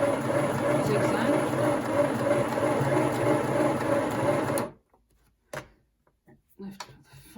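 Midi sewing machine stitching a short zigzag, a close, steady whirring hum that runs for several seconds and then stops abruptly, followed by a few quiet clicks and handling sounds.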